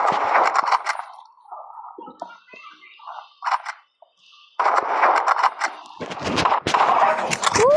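Rapid loud gunfire bursts from a sniper rifle and other weapons in the Roblox game Rivals, close and sharp with brief quiet gaps between volleys.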